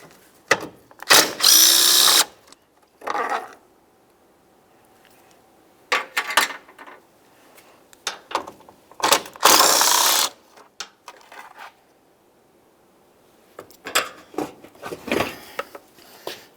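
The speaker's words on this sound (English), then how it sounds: "we're going to use a 10mm socket to remove our two mounting bolts" A ratchet with a 10mm socket removes the headlight mounting bolts on a 2000-2005 Buick LeSabre, heard as several separate bursts of quick clicking and whirring, close and fairly loud, with quiet gaps between them.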